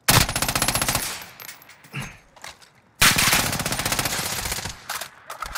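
Loud sustained machine gun fire in Call of Duty: Modern Warfare, two long rapid bursts separated by a short pause with scattered single shots, close and dominant.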